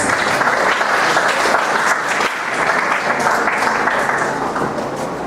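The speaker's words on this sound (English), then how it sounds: "A round of applause, please" Steady applause from a conference audience greeting a university professor as he comes up to speak, dense and sustained at an even loudness for several seconds with no voices over it.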